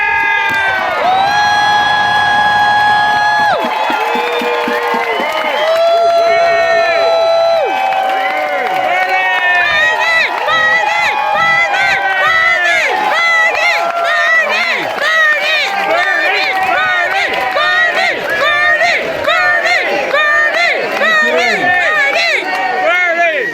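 A large crowd at a political rally for a presidential candidate cheers, whoops and claps loudly and continuously, with shouts rising above the roar.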